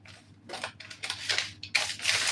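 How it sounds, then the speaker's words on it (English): Scissors snip through a paper shirt pattern in several short, close bursts of crisp rustling and cutting, with no talk. "All right. So I'm going to cut again."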